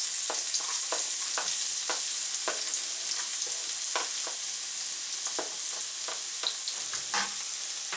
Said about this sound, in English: we will fry first the onion, garlic, and the ginger